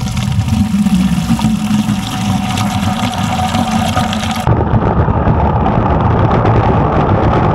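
Water is drawn for goats on a farm: a loud, rushing flow runs continuously, then shifts to a heavier, duller gush partway through, with no one talking.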